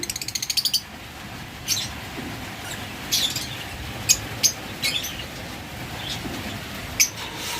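Caged lovebirds and budgerigars give scattered short, sharp chirps and squawks, some close and some fainter, over a quiet background with no voices.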